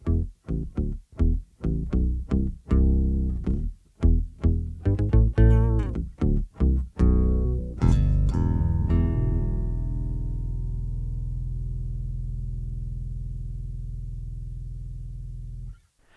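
Hybrid acoustic guitar run through a bass modeler, producing deep bass-guitar-like plucked notes in a steady rhythmic line, close and clear, ending on a long sustained low note that slowly fades.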